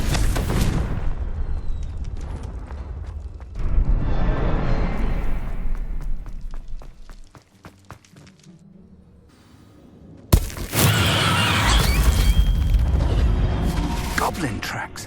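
A Confringo blasting spell from Hogwarts Legacy goes off as a loud booming explosion, with dense rumbling bursts, a quieter lull, then a sudden sharp blast that rolls into heavy sustained crackle; a voice speaks amid the action.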